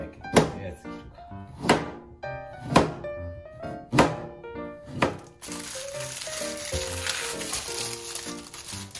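A kitchen knife cuts food on a cutting board with five evenly spaced, solid thunks, followed by a softer crinkling, sizzling texture, close by, with music playing underneath.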